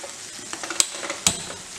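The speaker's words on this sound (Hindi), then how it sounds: "हल्की गैस पे अपने खोए को हमने भून लेना है" Khoya roasting over low heat in a hot kadai, with soft sizzling and a few scraping stir strokes, including two sharper clinks, under no talk.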